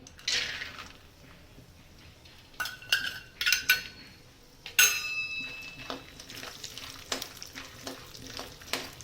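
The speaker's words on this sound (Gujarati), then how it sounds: "તો આપણે જો ઘી ગરમ થઈ ગયું છે, તો આપણે પેલા બદામ શેકી લેવું" Almonds roasting in hot ghee on low heat: a soft, steady sizzle with a spoon stirring and clinking against the metal pan in irregular bursts, fairly quiet and close.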